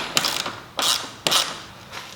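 A hand socket ratchet is working bolts loose on a KX500 dirt bike during teardown, giving three or four short, bright ratcheting bursts spaced about half a second apart, close and clear with no talk.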